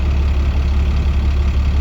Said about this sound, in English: Right now I'm idling at 700 revolutions per minute, and if I step on the accelerator